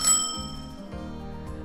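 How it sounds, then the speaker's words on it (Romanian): Bicycle bell on a Polar Grazia S6 city bike giving a bright metallic ding that rings out and fades, with softer follow-up taps and no voices. "Soneria trebuie să aibă mânerul de acționare în dreptul degetului vostru."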